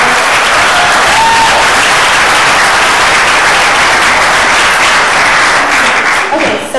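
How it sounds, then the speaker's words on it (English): A full audience breaks into sustained, dense applause at a live speaker event, the clapping loud and steady throughout before thinning slightly at the very end. "let's give a big round of applause for all their efforts"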